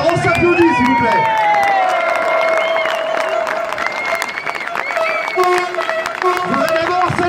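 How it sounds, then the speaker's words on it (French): A street rally crowd at a union protest in Saint-Nazaire claps and cheers steadily. The applause is dense and fairly loud, with shouts and voices mixed in throughout. "Alors on s'applaudit s'il vous plaît."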